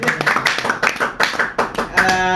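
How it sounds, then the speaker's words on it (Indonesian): A burst of hand clapping from a small group, brisk and fairly close, with voices mixed in. "ini tepuk tangan terakhir untuk dia"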